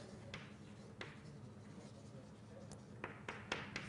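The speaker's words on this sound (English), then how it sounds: "So this I can just write down." Writing during an algebraic geometry lecture, faint scratchy strokes and a few sharp taps at the board against steady room noise, with no clear talking.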